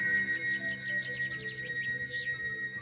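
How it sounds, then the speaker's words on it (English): Flute sound effect for a tabletop game's jungle scene, a soft breathy melody with quick trilling, bird-like flourishes over a low sustained drone, quiet and steady throughout. "you don't get flute sounds like this in the woods"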